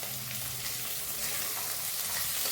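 Onion and green chili frying in a pan for a dry tendli side dish, giving a steady, even sizzle with broadband crackle that holds at a moderate level throughout, no voices present.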